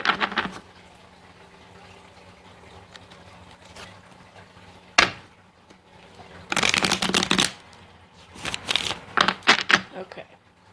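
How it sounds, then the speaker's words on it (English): Tarot cards are riffled and shuffled by hand in a few separate bursts, one sharp snap followed by two longer crisp flurries of card edges, with a quiet room between and a little talk. "2 more shuffles."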